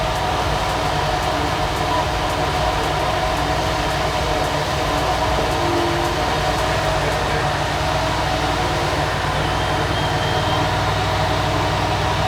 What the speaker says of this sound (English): we've got the engine on, and I'm just going to increase the revs with this button here